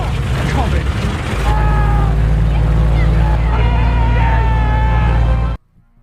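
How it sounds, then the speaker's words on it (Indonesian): An aircraft engine starts and runs in the film The Flight, set in a harsh desert. A heavy, loud low drone builds after a rough start and holds steady with a tonal whine, then cuts off abruptly near the end. "Beruntunglah pada percobaan kelima, mesin pesawat berhasil dihidupkan"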